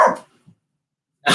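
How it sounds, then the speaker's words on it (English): A dog barks indoors: a short loud yap, a faint brief sound, then silence before another bark cuts in at the end. "Shush dog."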